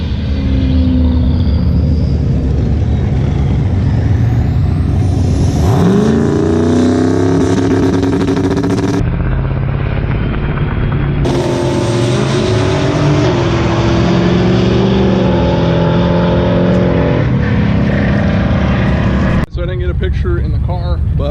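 Turbocharged Camaro on drag slicks launching down a drag strip, its engine roaring loud and continuous with sharp rises and shifts in pitch, and a brief cut near the end.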